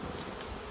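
Honey bees hum around an open hive in a short, continuous, fairly close buzzing drone with no voices.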